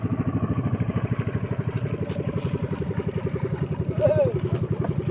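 A motorized fishing boat engine putters close by with a rapid, even low-pitched throb, continuous and fairly loud, with a brief squeaky sound rising over it near the end.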